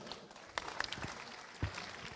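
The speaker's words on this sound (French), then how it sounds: "On les applaudit très fort." Applause from an audience at an awards ceremony for French champions, a scattered, fairly faint clapping with a few sharper claps standing out, heard alone without speech.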